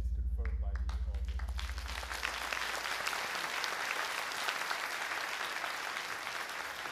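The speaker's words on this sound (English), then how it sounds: "I think that the applause speaks for itself" Applause from a lecture audience swells after a hum and a brief voice at the start, then continues as a steady, even clatter of many hands.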